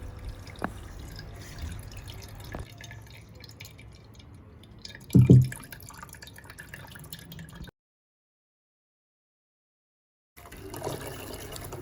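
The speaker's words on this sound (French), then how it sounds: "Ensuite, nous allons venir tamiser tout cela pour récupérer le jus." Juice from dried okra seed pulp soaked in hot water drips and trickles through a sieve, a soft continuous wet patter with one louder splash, then a brief silence before the dripping resumes.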